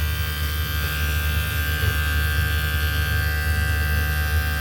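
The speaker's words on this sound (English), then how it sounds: "This is the compressor." Compressor of a solar-powered DC ice block machine running, a steady close electrical hum with a low buzzing drone and constant tonal whine, no speech.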